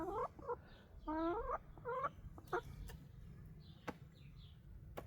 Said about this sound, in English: So these are silky chickens